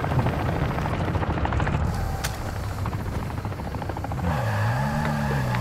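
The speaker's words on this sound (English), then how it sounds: "It's a helicopter." Helicopter in the shooter Call of Duty DMZ, a steady throbbing rotor chop and engine drone that holds throughout, with a faint rising whine and a low engine tone sliding upward near the end.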